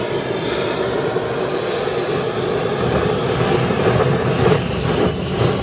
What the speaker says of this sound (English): Okay, we're gonna torch. And this is a brand new can of butane.